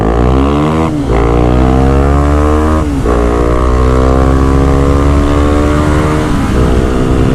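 A loud, close motorcycle engine revs and climbs in pitch through repeated gear shifts while accelerating uphill on a beginner bike, droning steadily throughout.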